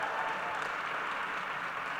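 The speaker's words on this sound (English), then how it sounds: "Yes, please, applause for that." Audience applause at an evening conversation event at a forum, a steady dense wash of clapping heard from a distance and held evenly for the whole stretch, with no voices over it.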